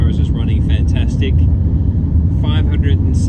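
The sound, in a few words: Nissan X-Trail car driving on outback highway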